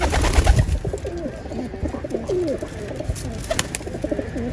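Pigeons cooing close by in a breeder's loft, repeated soft throaty coos layered over each other, with scattered flutters and light background noise.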